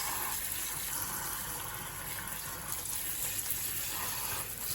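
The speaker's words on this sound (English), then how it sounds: "basically use the sprayer and separate all the little plantlets from the agar." Water sprayer rinsing Phalaenopsis orchid plantlets loose from agar into a pasta colander, making a steady, continuous gushing hiss with no break, close and full.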